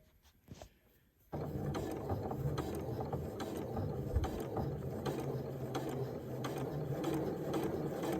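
Sewing machine stitching in the ditch to enclose a garment's neck binding, a steady close mechanical whir with rapid needle clatter running continuously after a brief quiet start.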